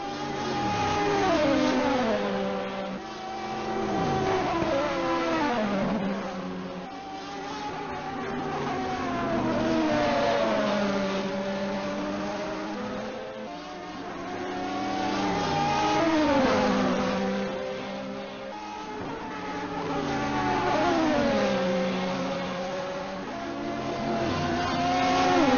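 Racing cars at the 12 Hours of Le Mans in a racing video game, including an Audi R10 and an Acura, with engines droning and rising and falling continuously as they rev and pass, loud and steady throughout.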